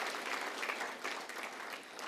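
Sustained applause from members gathered at a party forum, a steady dense patter of many hands clapping for about two seconds with no talking over it.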